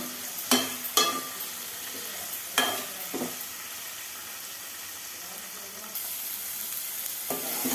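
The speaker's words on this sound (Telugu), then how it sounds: "ఇలా వేగాలండి." Cucumber pieces with tamarind frying in a pan, a steady close sizzle with a few sharp stirring clatters early on, alone without voices.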